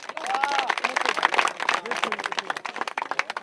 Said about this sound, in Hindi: इसके लिए पहले तालियां हो जाएं।